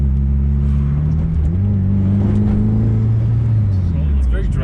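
A Mitsubishi Evo 5 tuned past 500 wheel horsepower pulls hard from inside the cabin, its engine note droning loud and steady as revs climb, hold, and ease off near the end.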